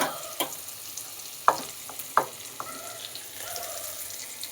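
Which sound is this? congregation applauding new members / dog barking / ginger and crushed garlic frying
ginger and crushed garlic frying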